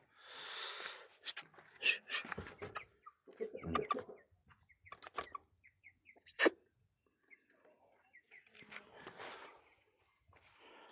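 Chirps and clucks from a flock of growing chicks with adult hens and a rooster nearby, scattered short calls spread across the stretch with quiet gaps, fairly close and moderately loud.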